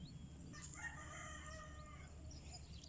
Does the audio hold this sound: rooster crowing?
yes